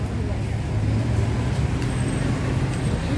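Busy evening street traffic at Patong Beach, Phuket, Thailand: a steady, loud low rumble of cars, buses and trucks passing close by, with murmuring voices mixed in.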